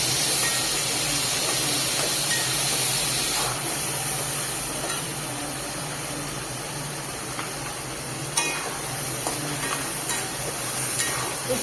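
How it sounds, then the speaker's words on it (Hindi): Spices fry in hot oil in a pan, a loud continuous hiss and sizzle holding steady throughout, with occasional sharper crackles and a brief stir-like burst near the middle, no voices. "सारे मसालों को मैं डाल दे रही हूँ और इसे भी अच्छे से ऑयल के साथ भून लेती हूँ।"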